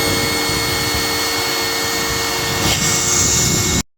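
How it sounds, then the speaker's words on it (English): A power tool plunge-cuts a rabbet into the back of a window header trim piece, a loud steady whining roar that runs unbroken and then cuts off abruptly. "Now rabbit the back of your header the same way, but this time I'm going to plunge cut it so that I leave some meat on the end."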